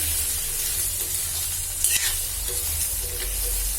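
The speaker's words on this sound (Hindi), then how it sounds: "अब इसको हम बहुत ही अच्छी तरीके से फ्राई कर लेंगे।" Vegetables frying in a pan while being stirred for a vrat meal of greens and gourd, a steady close sizzle with scraping stir strokes and a brief louder clatter midway, no talking.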